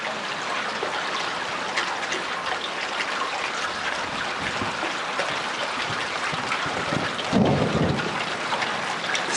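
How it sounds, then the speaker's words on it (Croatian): A thunderstorm over the mountains near Krasno, Croatia, in July 2011 brings steady heavy rain and a continuous low rumble of thunder that swells louder near the end. "Stalno se čuje tamo bljeskanje, to je zgrmljavina."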